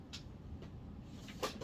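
A wooden drawer or cupboard slides open during a search for an LED, giving a few faint, short bumps and rattles in a quiet room.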